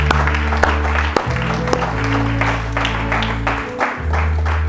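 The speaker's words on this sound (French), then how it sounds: "On acclame pour la parole de Dieu" Congregation applause at a church sermon, a steady wash of many hands clapping under a sustained organ or keyboard chord, loud and close.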